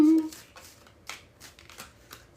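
Tarot cards shuffled by hand in a few quick, soft riffling bursts, close and fairly quiet, with a brief tone at the start.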